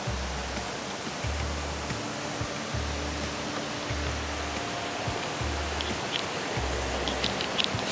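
A powerful waterfall roars steadily with dense rushing water, constant and loud, while a deep rhythmic thumping repeats underneath at regular intervals.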